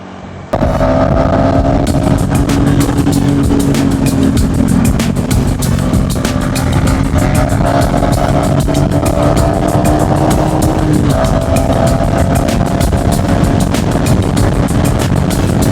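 Motorcycle ridden at night along a forest road near the coast, its engine a steady loud drone with a slowly shifting pitch, heard close up with wind noise and a brief dip near the end.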